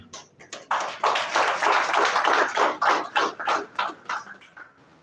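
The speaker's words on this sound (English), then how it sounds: "I just want to give all of our veterans a round of applause" A crowd claps for World War veterans at an outdoor ceremony in western Kenya. The applause swells from a few scattered claps into a loud, dense round, then thins into separate claps as it fades.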